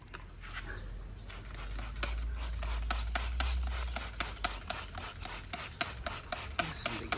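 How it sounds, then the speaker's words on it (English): Brisk, rhythmic scrubbing strokes work degreaser into an engine sandwich plate on a Ford Barra engine. The strokes are close and repeat quickly and evenly after a quieter start. "There's some degreaser. Get it all in there. And just give that a bit of a scrub."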